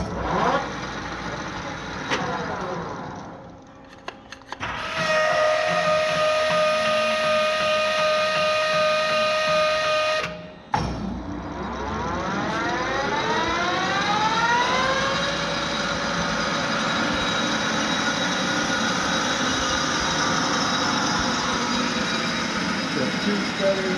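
LeBlond Makino 19 x 54 inch servo shift lathe spinning up to full speed, a loud steady mechanical whine with rising and shifting tones, a brief drop around ten seconds, then running wide open continuously.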